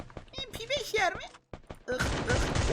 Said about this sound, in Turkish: MP5 uzaktan vuruyormuş